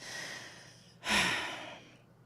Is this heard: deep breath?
yes